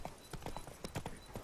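Horse hooves clip-clopping in The Witcher 3: Blood and Wine: a quick, uneven run of distinct hoof strikes, fairly close but quiet, with no talk over them.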